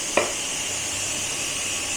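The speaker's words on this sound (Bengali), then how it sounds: "তখন পেঁয়াজটা ভাজা হোক" Onions frying in a pan for a yogurt chicken curry, a continuous even sizzle with one brief utensil knock near the start and no talk.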